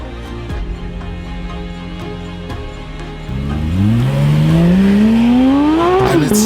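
Porsche 911 GT3, the motorsport-derived street model, idles steadily and then revs hard, its engine note climbing sharply and loudly toward the end with a close, powerful pitch rise.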